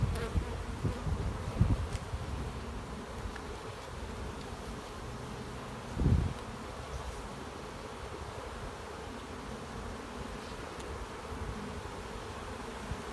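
Honey bees buzz around an open hive during a frame inspection, a faint continuous hum from many insects with occasional nearer passes, outdoors and without talking.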